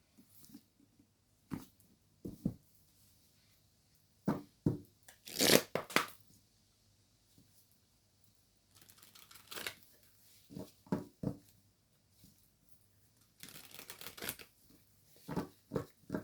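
Oracle du voyage intérieur cards are shuffled close by, with quick papery riffles and soft taps in irregular bursts separated by near-silent pauses.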